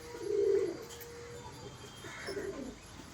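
Pigeons coo softly nearby, two low rolling calls about two seconds apart over a quiet background.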